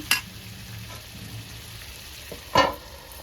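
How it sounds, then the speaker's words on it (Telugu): Chicken with green chillies frying in a pan for egg chicken curry, a soft steady sizzle broken by two sharp clinks of a spoon against the pan, one at the start and one near the end. "మూడు పచ్చిమిర్చి కూడా వేసిన కొంచెం ఫ్రై కానిద్దాము ఈ చికెన్ అనేది ఫ్రై అయితే మంచిగా ఉంటుంది"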